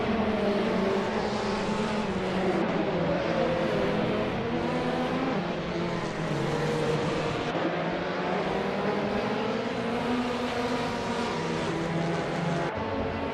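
Pack of racing cars in a video game bot race, several engines droning and revving together in a continuous loud roar, pitches shifting as they accelerate and close into the turn.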